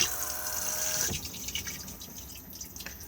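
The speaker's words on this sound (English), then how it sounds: "push to flush on the blue button just here" A cassette toilet flushes inside an Auto-Sleeper Warwick Duo motorhome, a brief rush of water followed by trickling and dripping that fades over a few seconds, close and fairly quiet.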